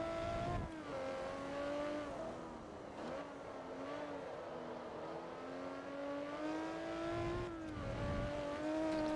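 Racing car engine in Forza Motorsport 2, droning steadily at high revs with gear-shift dips and rising pitch, loud and continuous throughout.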